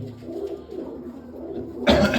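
Soft, low pigeon coos murmur in a quiet space, faint and repeated, before a sudden louder rustling burst near the end.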